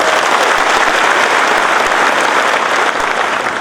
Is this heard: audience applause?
yes